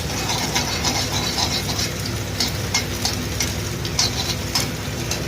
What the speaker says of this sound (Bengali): ডিমটা ফ্রাই করে নিচ্ছি মিডিলে দিয়ে।